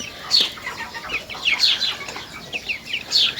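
Four-year-old farmyard ducks calling in short, bright bursts of quacking, close and fairly loud, coming in three clusters over a low outdoor background, with no talk.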